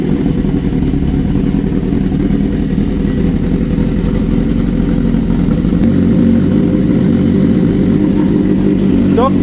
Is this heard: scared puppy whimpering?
no